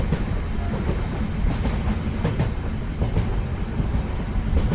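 A train rolling along rails in a Bengali horror cartoon, a loud continuous rumble with rhythmic clickety-clack wheel beats running throughout, alone with no voices.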